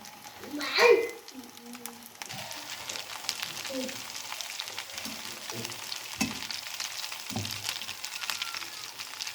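Potato seekh kebabs frying in a pan, a steady soft sizzle with faint stirring clicks, after an initial louder burst, with a voice speaking over it.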